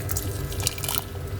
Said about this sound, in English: Get the boiling water. I will just add some more water into side of it.